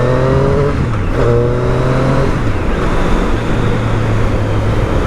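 A motorcycle engine runs close by at a motorcycle dealership, a loud steady drone with shifting pitch as it idles and revs over a few seconds.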